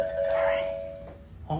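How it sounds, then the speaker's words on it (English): A doorbell chimes with a sustained bright tone, then a second brief chime near the end, heard indoors under some background noise. "Oh, he can't ring the doorbell anymore."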